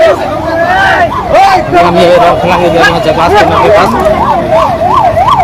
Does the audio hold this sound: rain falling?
no